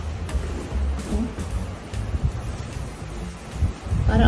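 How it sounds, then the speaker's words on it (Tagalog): Gusty wind buffets and roars in uneven waves, with low rumbling noise throughout and no clear voices. "Narinig nyo guys yung hangin."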